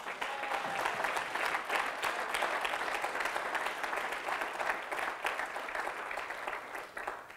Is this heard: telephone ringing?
no